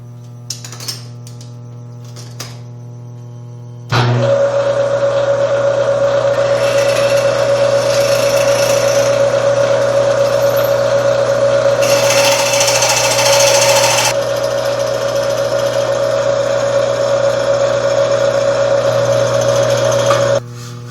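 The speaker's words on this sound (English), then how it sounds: "Now I'm going to drill the 1 3/4 hole on the inside." A power drill whines steadily for about seventeen seconds after a few faint clicks, with a louder grinding stretch midway as it bores a 1 3/4 inch hole in a roadster chassis part.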